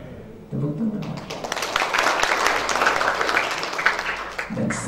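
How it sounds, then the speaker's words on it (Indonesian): Congregation applauding during an online church worship service, a sustained wash of clapping for several seconds that swells and holds steady, with brief voices at the start and end. "Tepuk tangan."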